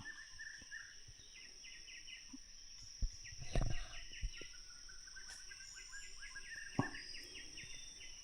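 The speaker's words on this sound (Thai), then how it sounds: "เสียงนกเสียงกาห้องตอนเช้า" Birds calling at dawn in a forest, with scattered chirps and repeated call phrases over a steady high insect drone, plus a few brief louder sounds nearby; no talk.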